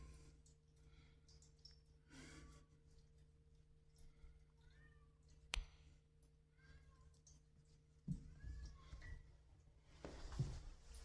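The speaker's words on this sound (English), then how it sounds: "Oh, I think that's their mom meowing." A mother cat shut in a separate room meows repeatedly from behind a door, the calls faint and muffled against a quiet background with a few soft knocks.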